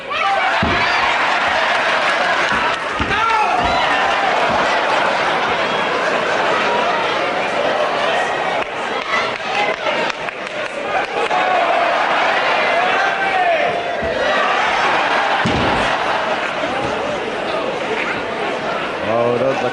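A wrestling crowd cheers for Les Kellett in a World of Sport bout against Mel Stuart, a loud sustained roar with applause and shouts filling the hall throughout, under commentary.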